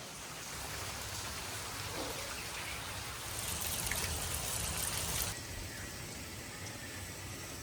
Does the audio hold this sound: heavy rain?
yes